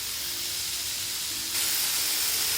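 Meat and fresh spring onion stems cook gently in a pan with a steady, close sizzling hiss that grows a little louder partway through.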